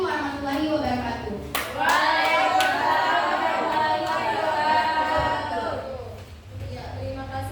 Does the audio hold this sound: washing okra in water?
no